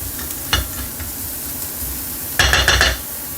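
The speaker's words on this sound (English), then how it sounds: "you want to stir this around really well because you do not want your garlic to burn" Garlic sizzles in a hot pan while being stirred, with scraping bursts near the start and a louder stirring clatter toward the end, close and clear with no talking.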